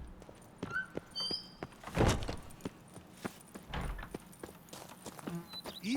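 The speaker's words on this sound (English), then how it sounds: "Even a horse drops if you ride it at a constant gallop." Hoofbeats of a horse galloping in the video game The Witcher 3: Blood & Wine, an uneven series of soft clopping thuds with one heavier impact, speech faintly in the background.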